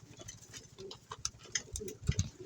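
Racing pigeons in a loft, soft cooing and scattered wing flutters and scuffles close by, quiet and irregular with no talk.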